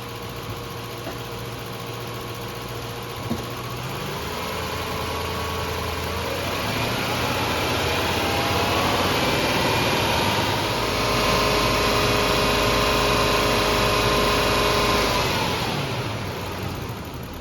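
A Lexus LS400 car engine held at a steady 2,000 to 3,000 RPM, a smooth continuous drone that climbs a little and then eases back toward idle near the end.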